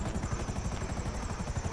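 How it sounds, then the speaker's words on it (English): A helicopter in a GTA video game, its rotor thumping in a fast, steady rhythm, loud and close, with a whining engine tone underneath. "This is a stealth chopper."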